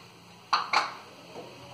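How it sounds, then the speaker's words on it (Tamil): Parotta and vegetable kurma are mixed in a pan, giving two quick metallic clinks of a utensil on the pan followed by a faint scrape, close and otherwise quiet. "இதெல்லாம் சேர்த்து நல்லா மிக்ஸ் பண்ணிடலாம்."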